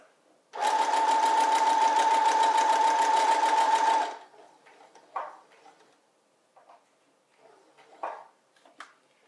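A sewing machine stitching scrap fabric runs in one steady rapid whirring burst of about three and a half seconds, then stops, followed by faint clicks and handling taps.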